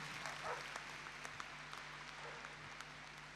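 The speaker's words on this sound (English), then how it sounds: "they'll give you a really big round of applause" Steady applause from a crowd at a dog training event, continuous clapping with a few sharper claps standing out, at moderate distance.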